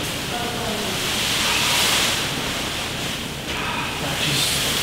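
Water rushing into a brewing vessel of grain for beer mash, a broad steady hiss and gush that swells and dips slightly, with faint voices in the background.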